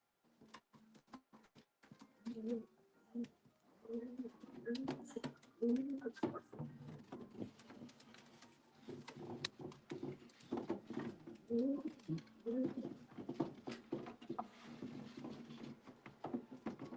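Racing pigeons in a Belgian loft after a race from Toury, France, cooing in soft repeated bursts against clicks and shuffling, with people talking quietly nearby.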